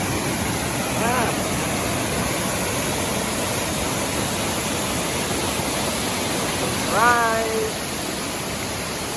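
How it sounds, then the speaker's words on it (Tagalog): A waterfall beside a highway, a loud, continuous rushing roar filling the whole scene, with a brief spoken word from a nearby voice partway through. "Nandito tayo sa falls."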